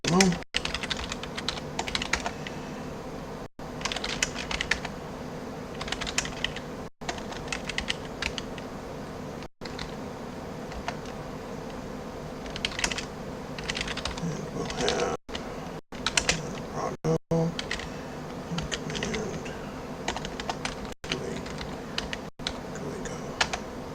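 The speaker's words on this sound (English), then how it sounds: "Let's make" Typing on a computer keyboard while setting up a Go Mandelbrot render demo, with steady close key clatter and occasional louder strokes running throughout, alongside intermittent speech.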